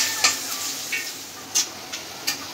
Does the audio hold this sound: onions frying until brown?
yes